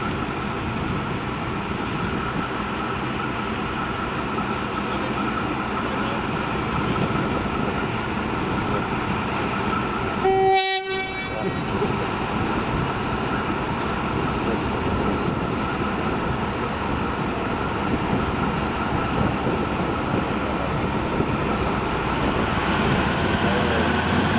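German locomotive 01 519 or V200 033 pulling away in northern Germany, a steady rolling train roar with rail and wheel squeal, a brief sharp burst midway, continuing loud and close throughout.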